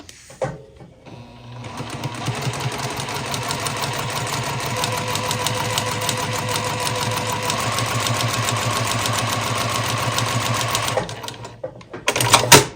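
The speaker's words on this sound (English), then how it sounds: "I will just pop a pin in and then sewing again just like I did before." A sewing machine stitches quilt block pieces for a center four patch block, running steadily and close for about nine seconds with a fast, even mechanical chatter, then stopping, followed by a few handling bumps.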